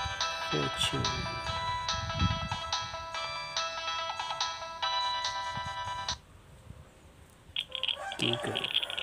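A Nokia 3220 ringtone plays loud and alone as a bright, tinkly electronic melody of repeated chiming notes for about six seconds, then cuts off; faint rustling and a brief higher tone follow.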